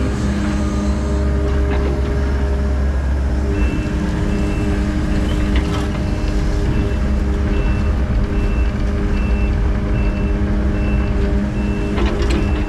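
A heavy 18,000-pound land-clearing machine backs up on a horse pasture with steady, evenly spaced reversing beeps over a loud engine drone and mechanical rumble, and no voices.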